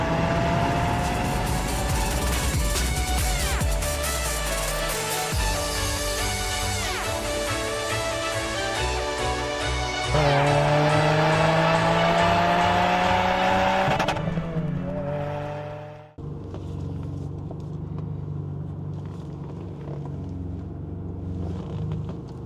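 Ferrari 550 Maranello on an open road test, engine note rising loudly through the gears under acceleration, with a brief lift off the throttle before pulling again more quietly.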